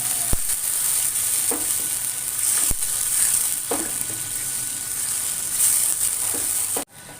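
Green chillies and tomato puree sizzle steadily in a hot pan, a continuous frying hiss broken by a few sharp spoon scrapes and clicks, close and fairly loud, with no talking.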